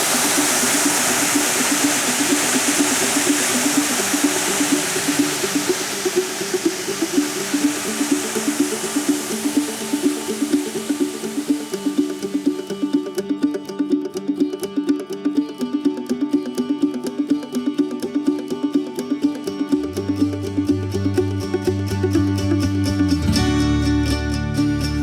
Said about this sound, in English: We actually found a waterfall.